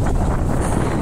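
Strong wind gusts buffet an open microphone on a beach at Arraial d'Ajuda, Brazil, producing a loud, continuous low rumble and roar with no voices.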